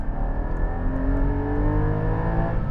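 A Porsche 718 Cayman GT4 engine revs with a smooth, sustained drone and rising harmonic tones, loud and close with no voices.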